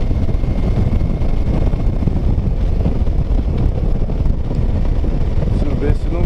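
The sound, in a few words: wind blowing while riding on the road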